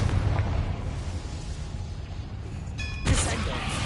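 A Confringo explosion spell goes off in a Harry Potter video game, a short sharp burst with a bright chiming flash and low thump near the end, over a steady ambient game rumble.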